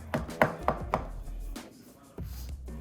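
A knife dices a ripe avocado on a cutting board for chicken tortilla soup, a quick run of about five close, crisp chops followed by a pause and a couple of softer taps.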